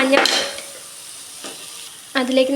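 Potato filling for samosa rolls stirred in a pan with curry leaves, a bright scraping stir at the start, a quieter sizzling stretch with a soft clink, then another burst of spatula scraping at the end.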